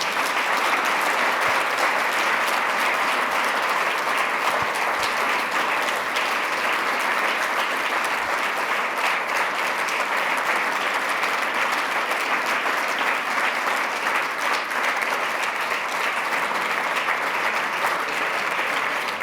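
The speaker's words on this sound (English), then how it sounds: "One more time, please give them a round of applause." Audience at the close of a supply chain security panel applauds at length, a loud, even wash of many hands clapping that continues unbroken for nearly twenty seconds.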